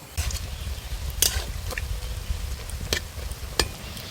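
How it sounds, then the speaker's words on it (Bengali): Nimki, crisp fried flour snacks, cook in a pan of oil, giving a low steady bubbling broken by a few sharp clinks and scrapes as the pieces are turned. "উল্টে পাল্টে নিমকিগুলো ভেজে নেব"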